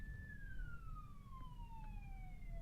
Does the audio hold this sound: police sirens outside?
yes